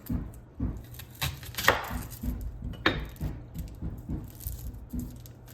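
Onion being chopped on a cutting board: a run of close, irregular knife thumps and taps, some sharper than others, at a quick uneven pace with no voices.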